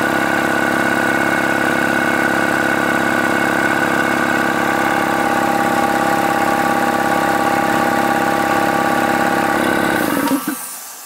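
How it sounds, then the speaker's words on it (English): An oiled shop air compressor runs at a loud, steady drone with a constant motor hum and mechanical rattle for about ten seconds, then shuts off abruptly near the end. "let's go ahead and take the sound output difference between this unit, the oiled unit, and the oilless"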